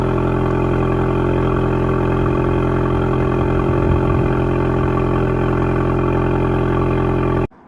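A Cupra Leon 2.0 TSI idles steadily to warm its oil, a close, constant low hum that holds level for about seven seconds and then cuts off.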